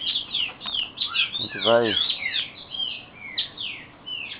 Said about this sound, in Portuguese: eu tenho vários tipos de pássaro